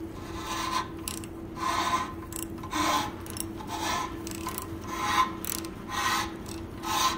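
A ridge reamer scrapes the worn ridge at the top of a cylinder bore in a Slant 6 engine, giving rhythmic rasping strokes about once a second. The cutting is near and moderately loud over a steady low hum, and nobody speaks.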